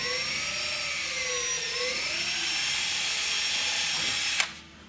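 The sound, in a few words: power drill drilling into boat hull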